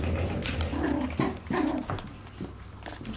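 Yorkshire terrier puppies bark and whimper from their kennels, a run of short, near, fairly loud yaps with whiny tones between them and no talking.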